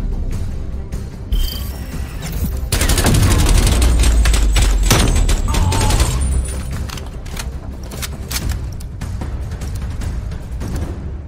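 Gunfire in Call of Duty: Black Ops Cold War arena play comes as rapid shots and bursts with heavy booms, loud and dense in the middle, with in-game voices talking.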